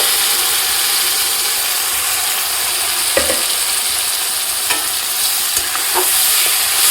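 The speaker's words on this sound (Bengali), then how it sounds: "বাটা মশলাগুলো দিয়ে কিন্তু খুব ভালোভাবে কষিয়ে নেব।" Ground spice paste sautéing with browned onions for mutton curry, a steady loud broadband sizzle with occasional scraping clicks of a stirring spoon against the pan, no voices.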